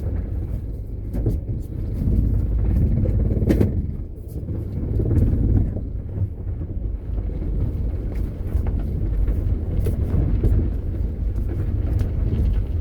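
Faulty car idling with a deep, rumbling vibration, loud and continuous and close to the microphone, with some wind buffeting and no clear talking.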